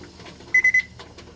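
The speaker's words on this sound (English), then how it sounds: "So let's set the timer for 75." A kitchen timer is set while freezing brownies: three quick electronic beeps in a tight cluster, clear and close, over a quiet background with a few soft clicks.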